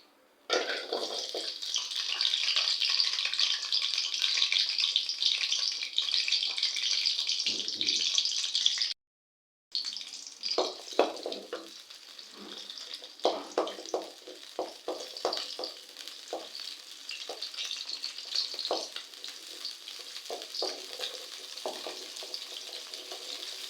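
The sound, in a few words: small onions frying in a hot kadai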